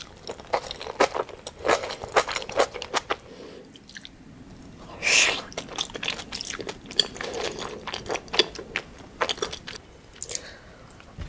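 Close, wet chewing and slurping of cream curry udon topped with melted stretchy cheese and a soft-boiled egg, steady mouth sounds and soft bites with one louder slurp midway, no talking.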